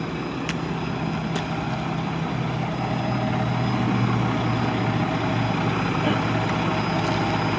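A 2013 Mack Pinnacle CHU613 truck with dual exhaust idles close by, its diesel rumble deep, loud and steady, with a few faint clicks and no talking.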